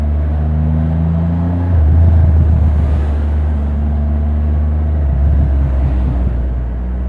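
A 2021 Triumph Rocket 3 GT motorcycle's exhaust burbles in a deep, steady low rumble, swelling louder around two seconds and again near five seconds, close by and without talk.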